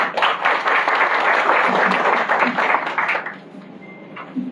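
An audience at a journalism event applauds in a dense burst of clapping for about three seconds, then fades to scattered claps and a few voices.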